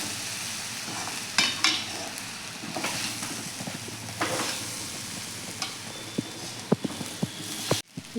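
Egg fried rice with a little dark soy sauce stirred and tossed in a hot pan, giving a steady close sizzle broken by scraping spatula strokes and clinks of metal, with no talking.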